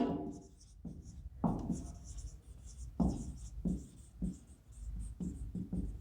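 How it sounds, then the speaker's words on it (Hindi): Chalk or marker scratching across a classroom board in a zoology lecture, with several distinct bursts of strokes one after another and a soft, close room tone between them. No one speaks. "देखिए लिख देता हूं मैं"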